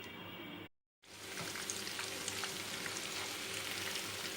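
Drumstick (moringa) pieces frying in peanut or sesame oil for an Andhra pickle, a steady dense sizzle close by, broken once by a brief gap, with faint scraping as the pieces are stirred.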